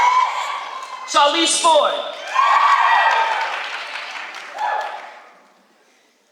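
An audience at an 8th grade graduation at a school of the arts claps, cheers and whoops in several loud bursts that fade out toward the end, with a voice announcing a name over the noise.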